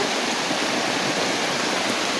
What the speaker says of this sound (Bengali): দেখো প্রচণ্ড ঝড় বৃষ্টি হচ্ছে প্রচণ্ড ঝড় বৃষ্টি